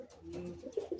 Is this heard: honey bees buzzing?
no